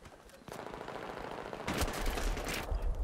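Gunfire in Battlefield 3 breaks into rapid automatic bursts, close and loud, growing heavier and denser through the few seconds with no voices over it.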